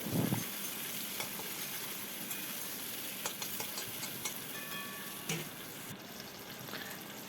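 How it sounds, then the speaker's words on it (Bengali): Chopped onion and tomato fry in oil in a pan, giving a faint, even sizzle with scattered small clicks and scrapes from stirring. "এবার এইগুলোকে আমি ভালো করে ভেজে নেব।"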